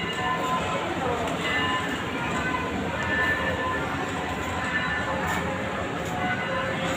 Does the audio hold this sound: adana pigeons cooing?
no